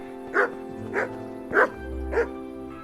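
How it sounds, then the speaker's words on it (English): A dog in Kingdom Come: Deliverance barks four times at an even pace, sharp and close, with a low hum between the barks. "Hello, doggy. Is that my doggy?"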